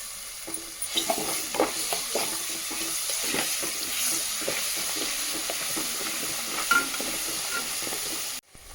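Curry leaves and ground garlic paste fry in a pan for gonguura pickle, a steady sizzle and hiss with light stirring scrapes throughout, ending abruptly with no talk.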